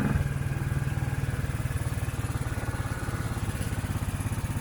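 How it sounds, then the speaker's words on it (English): A small engine on an amusement park ride car styled like a lawnmower chugs with a fast, even putter, close and steady throughout, with no voices. "we're in a lawnmower that doesn't cut grass"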